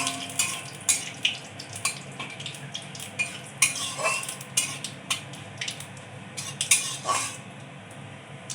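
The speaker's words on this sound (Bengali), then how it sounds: "ফোড়নে গোটা জিরে আর তেজপাতা দিয়ে দেবো।" Whole cumin seeds and bay leaves sizzle in hot oil, a steady frying hiss broken by sharp crackles and the occasional clink of a spoon stirring against the pan.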